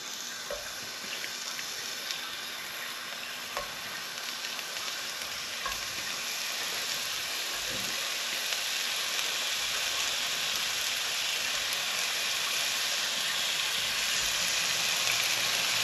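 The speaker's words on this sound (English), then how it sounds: "I'm going to start to fry these meatballs off" Chipotle turkey meatballs fry in a spray-oiled pan over medium-high heat, making a loud, steady, close sizzle that holds throughout with a few faint clinks and no speech.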